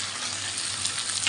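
Tomatoes sizzle steadily in a hot pan for a spicy pepper and cumin kuzhambu, a constant bright hiss with no break.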